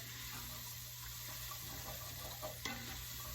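Celery and other vegetables sauté in a pan with a soft, continuous sizzle, faint and steady, with a brief stirring scrape near the end.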